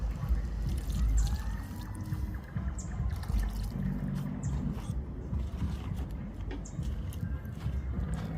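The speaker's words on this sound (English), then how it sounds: "I drop some water in there. Let it go and boil down." Water pours into a cooking pot with chicken, a continuous splashing trickle that runs throughout at moderate level against background sounds.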